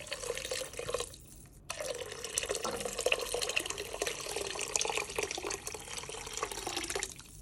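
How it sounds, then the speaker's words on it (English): Chicken broth stock pours steadily into a soup pot, a continuous splashing liquid stream that runs for several seconds after a brief pause, close and fairly quiet. "You can now go ahead and start adding in your 8 cups of your stock, or broth"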